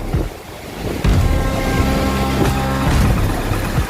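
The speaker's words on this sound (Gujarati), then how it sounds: "ખેતરમાં થઈને પાણી જાય" Water rushing through a flooded cotton field roars steadily with gusty wind noise across the microphone, a broad continuous wash that swells louder after the first second.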